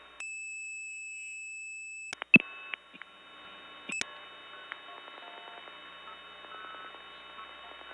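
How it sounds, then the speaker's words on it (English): An operator's key set sends telephone signalling tones on an old step-by-step tandem line. A sustained dual tone gives way to clicks, then to brief multi-frequency tone bursts over a faint background hum. "Seems every time I start dialing, an operator starts dialing."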